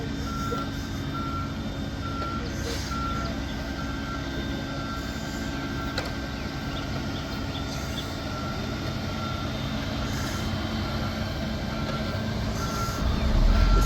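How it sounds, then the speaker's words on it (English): A truck backing up on a residential street being repaved with new asphalt, its reversing alarm beeping in a steady repeated rhythm over a continuous diesel engine drone that grows louder near the end. "So now we got another truck backing up."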